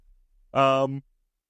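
One short voiced yawn, a brief drawn-out groan that stops abruptly, with silence around it.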